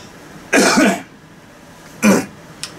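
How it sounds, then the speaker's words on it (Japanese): Two harsh coughs about a second and a half apart, followed by a tiny third catch, from a person who has had lung cancer; no talking in between. "肺がんやってからたまにこういうふうに咳が出るようにしました"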